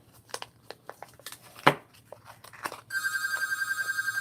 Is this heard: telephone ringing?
yes